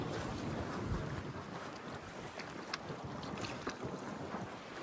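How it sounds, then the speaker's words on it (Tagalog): Strong, gusty wind on the open sea buffets the microphone in a constant rough roar, with water and boat noise beneath it and occasional sharp knocks. "Medyo malakas po ang hangin"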